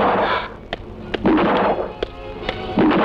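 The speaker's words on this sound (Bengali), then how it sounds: "যেখানে যাই খালি গুলির শব্দ" Gunshots in a Bangladeshi action film scene crack out as about six sharp, separate bangs at uneven gaps, set among louder bursts of background sound.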